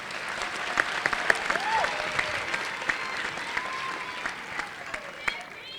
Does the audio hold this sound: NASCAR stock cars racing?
no